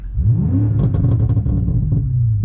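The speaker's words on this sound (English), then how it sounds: "It's loud and proud. It's the way the exhaust should sound." A 2018 BMW M5's exhaust roars loud and close under hard acceleration, a deep continuous rumble that rises in pitch as the revs climb and then settles slightly.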